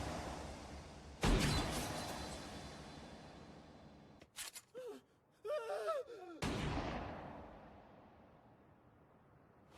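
A single sharp gunshot cracks out in an anime episode, followed by a tense lull, brief voice-like sounds and a swelling rumble that slowly fades.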